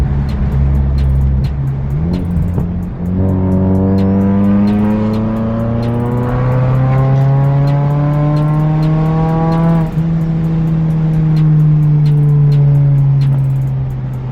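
A Ford Mustang EcoBoost engine revs up and accelerates, its pitch climbing steadily and then holding a loud, sustained drone, heard close with no talking.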